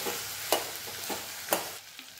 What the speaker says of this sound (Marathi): आता हे सर्व छान असं परतून घ्यायचं आहे.